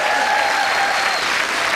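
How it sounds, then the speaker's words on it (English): Studio audience on a 1991 television dating game show breaks into loud, sustained applause and cheering, a dense continuous wash of clapping that fills the room for the whole stretch. "And give them a big cheer, everybody."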